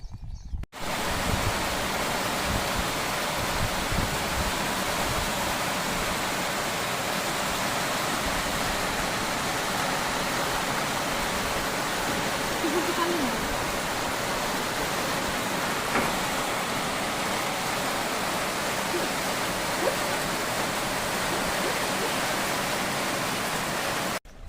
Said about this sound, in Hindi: और देखो बहुत बढ़िया से पानी बह भी रहा है।